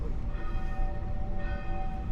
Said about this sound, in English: There's the bells, we just timed that well